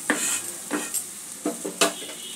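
Potatoes, spring onion and winter vegetables fried in a pan for a katla fish dish, with a handful of quick spatula scrapes over a soft background sizzle; no speech.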